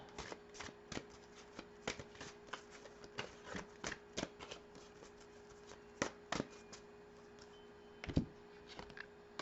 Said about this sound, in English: let's pull a card here from your heavenly helpers